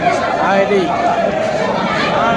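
Dense crowd chatter on a busy railway platform, many overlapping voices forming a continuous loud babble close by.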